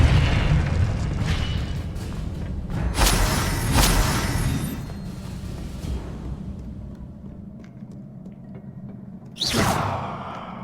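Spell blasts and explosions in the video game Hogwarts Legacy: a run of booming bursts and whooshes early on, fading into a quieter rumble, then one sharp loud blast near the end.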